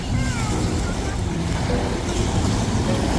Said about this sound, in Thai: โอ้เหมือนน้ำทะเลเลยมีคลื่น แต่ไม่ใช่ทะเล